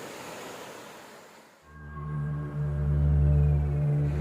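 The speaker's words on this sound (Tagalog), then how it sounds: "malakas po ang agos ng tubig" Strong rushing current at the Gabur Gabur waterfalls in Peñablanca, heard as a close broadband wash that soon gives way to a loud, steady low droning hum.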